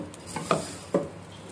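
Vermicelli (seviyan) roasting in a pan while a spoon stirs it, two distinct scraping strokes with soft clinks over a faint background hiss, close and fairly quiet.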